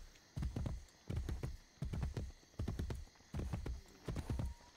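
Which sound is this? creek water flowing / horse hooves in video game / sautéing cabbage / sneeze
horse hooves in video game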